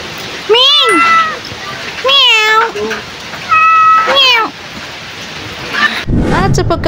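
A pet cat named Mingming meows loudly and repeatedly in several drawn-out, rising and falling calls close by, with a burst of rain or rustling noise at the end.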